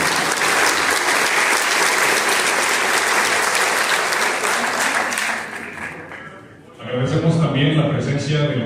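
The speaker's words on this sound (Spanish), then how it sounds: "recibamos con un fuerte aplauso, por favor" Loud, sustained applause from a large audience fills most of the clip, dipping briefly before a burst of livelier clapping and crowd noise.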